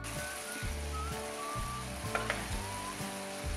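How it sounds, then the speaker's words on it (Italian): Stuffed artichokes with peas cook in a pan, giving a steady soft sizzle with rhythmic low bubbling pulses and a few small crackles, heard alone at a quiet level. "Adesso dovranno cuocere per 20 minuti."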